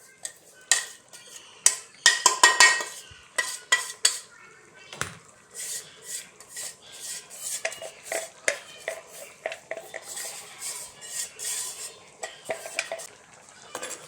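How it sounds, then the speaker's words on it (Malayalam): A spoon scrapes and knocks against a pot as breadfruit curry with roasted ground coconut is stirred, producing a burst of rapid clatter early on, then irregular metallic clinks and scrapes at close range. "നന്നായിട്ട് ഇളക്കി കൊടുക്കാം."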